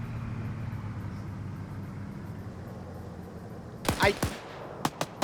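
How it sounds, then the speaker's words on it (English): Assault car approaching in a 168-player PvP military game: a steady low engine drone, then sharp gunshot cracks near the end. "You hear the vehicle."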